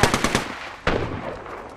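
Rapid automatic weapon fire in Apex Legends on Nintendo Switch, a quick burst of close loud shots followed by a second sharp report and fading echo.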